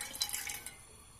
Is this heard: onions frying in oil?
no